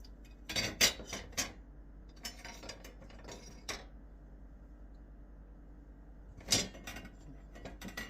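A metal lid set onto a cooking pot of quinoa on the stove, giving a quiet cluster of clattering clinks and a later single knock against a low kitchen hum.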